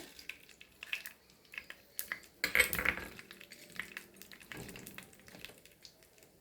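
Mustard seeds drop into hot coconut oil on a tawa, giving faint scattered crackles and pops, with light clinks of a pan and utensil and one louder clatter in the middle, no voices.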